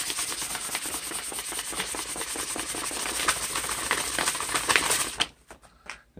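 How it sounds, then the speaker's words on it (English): Fine 1500-grit sandpaper rubs back and forth on the rusty steel head of an antique hatchet, a steady rhythmic scratchy rasp close to the mic that stops abruptly near the end, with no talking. "You take some of this fucking 1500 grit, smooth that shit down like that."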